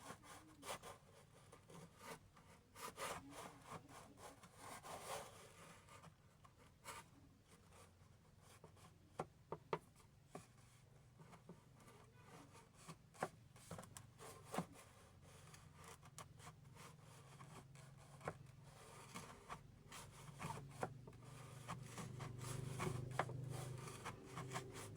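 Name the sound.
polishing the inside of a bushing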